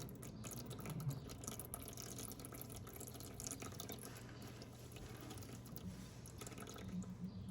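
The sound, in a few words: washing dry beans in water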